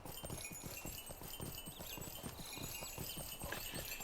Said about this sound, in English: that's just back on one of the horses